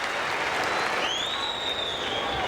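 A tennis crowd at the 2002 US Open cheers and applauds during a Venus Williams versus Monica Seles match: dense, continuous clapping and cheering fills the stands, with a thin whistle rising through it.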